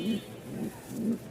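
Racing pigeons coo in a loft, three low soft rolling coos in a steady rhythm, fairly close and faint, with faint background noise between them.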